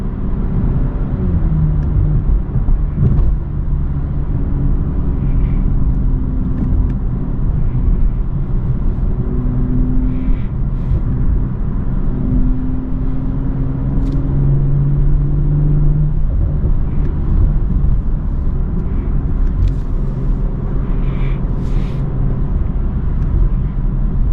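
A BMW M340i engine revving and accelerating on the road, heard from inside as a loud, steady low rumble with rising and falling tones as the car pulls through the gears, no voices.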